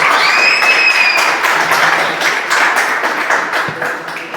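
Church congregation clapping loudly and steadily in praise, a dense continuous patter of many hands, with a brief whistle-like tone near the start, fading slightly toward the end.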